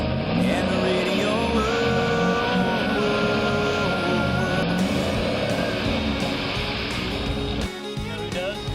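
A 3/4 ton truck churns in mud with only one front wheel spinning, its engine roaring steadily and loud for several seconds before the pitch drops near the end, with music and voices in the background.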